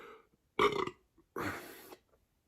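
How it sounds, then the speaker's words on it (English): Two loud, close belches from a man, the first deep and gurgling and the second longer and breathier, with near silence between them and a faint start of another at the end. "I think it's going to be pathetic little burps."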